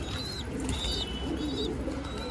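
Pigeons in a loft coo softly and chirp in thin repeated calls over a steady low rumble of background noise, close but not loud.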